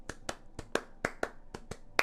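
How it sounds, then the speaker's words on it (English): Hands clap in a steady, even rhythm, about nine sharp claps spaced roughly a quarter second apart, close and fairly loud with no talking over them. "Those are claps for you, buddy."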